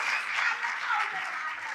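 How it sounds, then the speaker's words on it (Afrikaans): Audience applause for Marlene Leroux at an Afrikaans cultural gathering, a steady, dense wash of clapping across the whole stretch with a faint murmur of voices mixed in. "dat julle net weer vir haar 'n hande klap kan gee"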